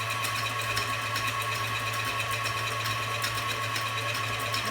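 An electric mixer whirs steadily while eggnog is being made in a home kitchen, a continuous motor hum close by with no talking.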